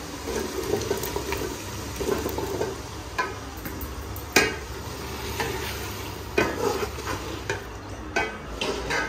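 Potatoes stirred into frying masala in a pan, a soft sizzle under repeated scraping spoon strokes with a few sharper knocks, close and fairly quiet, with no talking.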